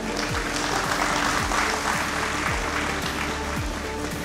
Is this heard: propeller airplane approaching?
no